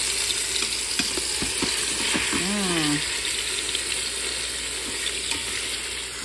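A Boston butt browning in a hot pan, giving a continuous loud sizzle and frying hiss with a few clanks and a brief squeaky scrape near the start; no speech.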